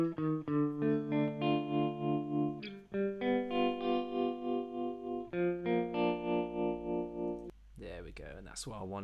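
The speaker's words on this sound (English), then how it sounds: "it's the Rhodes Trem 2 on the Tremolator by Sound Toys, and it's great because it's just gonna bounce panning" Funk guitar runs through a Soundtoys Tremolator Rhodes Trem 2 auto-pan tremolo, its sustained chords pulsing in a steady rhythmic throb, followed by a short burst of higher, wavering notes at the end.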